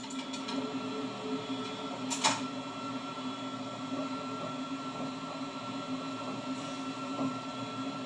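Inside the cab of the Belgian BB 1191 electric locomotive heading into the Brussels North–South junction tunnel, a steady droning rumble runs throughout, with a sharp metallic clank near the start and faint wheel squeals.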